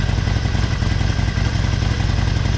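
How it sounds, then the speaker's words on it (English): Harley-Davidson Forty-Eight motorcycle engine running loud and close with a steady low rumble and fast pulsing throb, slightly revved, continuous throughout with no talking. "we'll give it a little bit of a rev"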